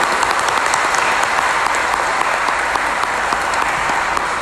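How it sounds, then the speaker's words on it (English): A church congregation gives engaged couples a round of applause during Sunday Mass, loud, dense, steady clapping from many hands filling the whole stretch without letup. "if we can give our engaged couples a round of applause."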